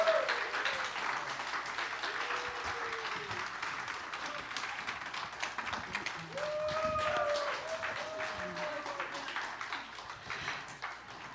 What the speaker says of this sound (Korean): 큰 박수로 다시 한번 감사의 박수 전하겠습니다.